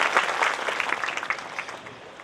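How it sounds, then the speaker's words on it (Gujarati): An audience at a Bhagavat katha hosted by the Aghara family claps to welcome visiting family members. The applause is lively and dense, peaks early, then gradually thins and fades. "તો એ બધા આવ્યા છે એટલે એમને પણ આપણે તાળીઓના ગડગડાટથી એક વખત"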